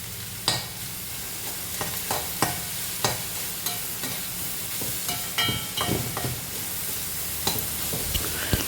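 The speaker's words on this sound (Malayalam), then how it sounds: "നന്നായിട്ട് ഇളക്കി." Finely chopped salted vegetables for thoran are stirred in a hot pan, with repeated spoon scrapes and clinks at an irregular pace over a soft continuous sizzle.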